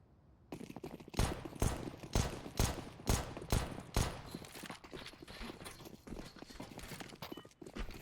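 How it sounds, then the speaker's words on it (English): Gunfire from the Counter-Strike video game during an ESEA Main match: a string of sharp, evenly spaced shots, several in quick succession, loud and close over a busy game background. "Maybe Pause taps out one with that burst fire."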